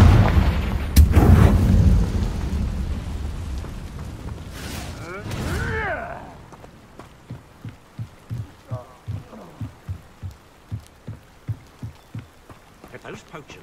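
A Confringo fire spell explodes in Hogwarts Legacy with a loud burst and whooshing crackle, followed by a run of regular soft thuds from the game action.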